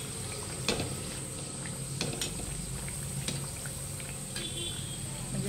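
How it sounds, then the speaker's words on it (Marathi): Sanjori, a stuffed sweet pastry, frying in oil on a low gas flame, a steady close sizzle broken by a few sharp clinks of a spoon or slotted ladle, no talk. "आपल्याला बाकीच्याही सांजोऱ्या तळून घ्यायच्या आहे। गॅस फुल नाही करायचा, कमी गॅसवरच मस्तपैकी छान तळू द्यायच्या"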